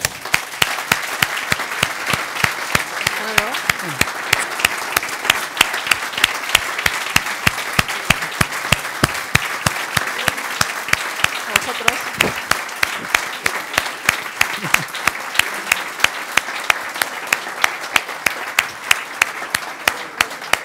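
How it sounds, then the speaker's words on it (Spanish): Sustained audience applause closing a political debate between candidates for party secretary-general in Álava, steady dense clapping throughout with a brief spoken word near the start. "un aplauso."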